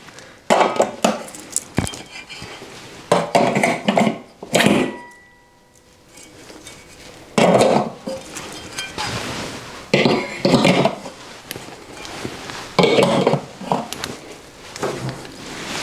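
Metal hooks clink and clang as they are set onto a garden tool rack bracket, a series of sharp close metallic knocks and scrapes separated by pauses.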